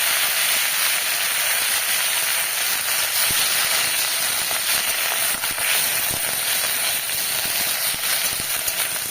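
Neem leaves sizzle and crackle steadily in hot oil in a kitchen pan, a dense continuous frying hiss with scattered pops.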